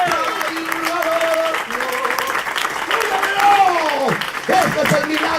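A church congregation claps in a sustained, lively round while a preacher's voice carries on loudly over the top.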